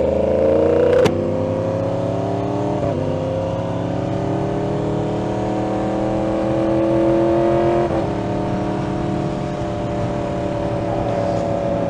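A 2016 Suzuki GSX-S 1000 motorcycle engine idles and revs steadily nearby, its tone climbing and easing with a few sharp blips, and no voices are heard.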